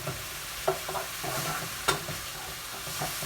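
Food browning in a hot frying pan gives a soft steady sizzle, broken by a few stirring scrapes and clatters, heard up close and moderately quiet with no voices.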